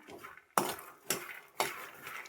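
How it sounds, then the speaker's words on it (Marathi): Three sharp scraping clatters of a utensil stirring roasted peanuts around a hot metal pan with the gas switched off, evenly spaced, with soft rustling between them. "गॅस बंद केला तरी सुद्धा असे शेंगदाणे असे फिरवतच राहायचे"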